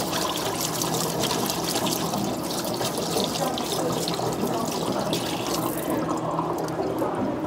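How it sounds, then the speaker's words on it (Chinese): Tap water runs steadily from a faucet as fabric is scrubbed and rubbed under it, a close, continuous splashing rush that fills the whole stretch. "好，我先打开水龙头试试看"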